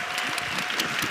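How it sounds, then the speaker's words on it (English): Audience applause at a startup panel event, a steady dense wash of clapping hands filling the whole moment, moderately loud with no voices over it. "So please go ahead and give a big applause for Jenny Shao and Miss Naomi Harris."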